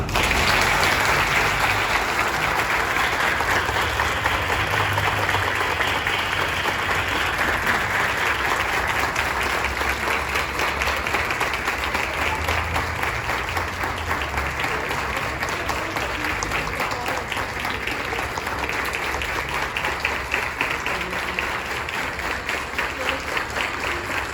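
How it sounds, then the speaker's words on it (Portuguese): Sustained applause from a large crowd at a building dedication ceremony, steady and loud throughout, with no break in the clapping. "Uma salva de palmas para ele."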